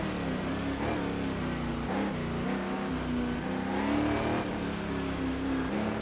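A Chaparral 2D race car accelerates along a track that was once part of the Nordschleife, its engine droning loud and steady with rising harmonic tones throughout.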